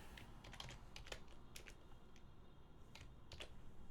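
Rapid, uneven keystrokes clatter on a computer keyboard, close by, in bursts with short pauses.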